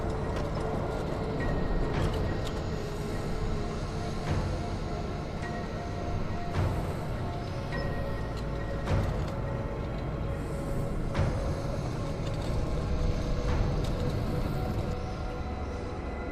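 A tram moving through the Fallout London video game gives a steady low rumbling run with periodic metallic clanks and clicks, continuous and fairly even in loudness.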